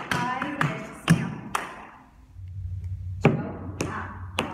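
Tap shoes strike a hard floor in a toe, hop, ball change, Irish and stamp sequence, sharp taps and heavier thuds in a swinging rhythm, close and fairly quiet with a low hum between steps.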